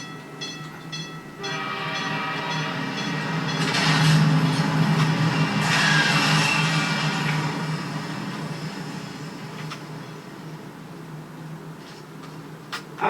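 A train passes close by, a loud rolling rumble with clattering wheels that swells and fades, punctuated by high squeals and a horn-like tone, with no talking.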